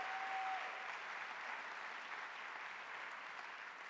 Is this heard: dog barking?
no